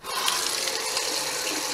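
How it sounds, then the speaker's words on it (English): Tap water runs steadily into a sink as a common shiner fish is rinsed, a close, continuous splashing hiss heard alone. "So what I'm going to do is we're going to rinse this common shiner off."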